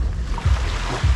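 Sea surf washing onto a fine-pebble beach beside a pier with a gentle slope into the water, a steady close wash with two heavier low surges rolling in.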